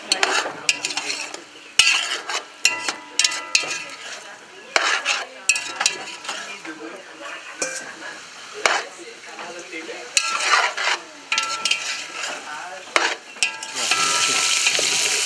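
Sausages frying in a pot over a wood fire for rougail saucisse, with repeated loud scraping and clinking stirring strokes over a continuous sizzle that swells near the end.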